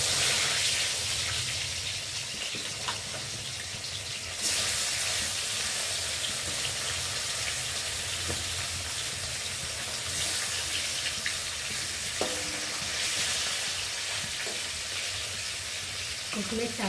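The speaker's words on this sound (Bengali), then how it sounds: "তেলটা গরম হয়ে গেছে, আর এখন এই যে মাছগুলো একে একে দিয়ে ভেজে নেব।" Large fish pieces frying in hot oil in a kadai, a steady broadband sizzle and crackle running throughout, with occasional utensil clinks and brief bursts as pieces hit the oil.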